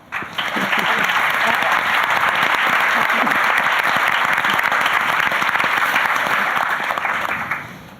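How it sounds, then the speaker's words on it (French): A conference audience applauds panel speakers at an opening session, a dense, steady wash of many hands clapping that holds for about seven seconds before tapering off. "Alors, on les applaudit."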